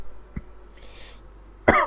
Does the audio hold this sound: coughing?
yes